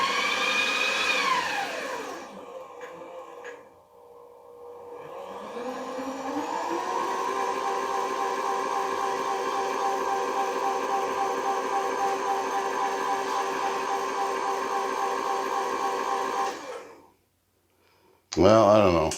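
A Craftex CX603 knee mill spins down, then starts and runs with a steady mechanical whine and hum for several seconds before stopping, followed by a short loud burst at the end.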